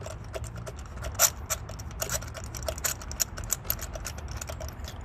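A spark plug on a Toyota/Lexus 3.0L V6 is loosened with a 16mm socket and ratchet, then by hand, giving a fast run of close, dense ratchet clicks and small metallic rattles with no talking.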